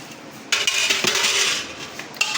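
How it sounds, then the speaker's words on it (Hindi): Whole spices tumbling into a pressure cooker pot that already holds sliced onions, a loud close clattering rush of hard bits on metal that lasts about two seconds and then gives a final clink. "ये इसके अंदर सारे जो हैं ये हमारे साबुत मसाले जाएंगे।"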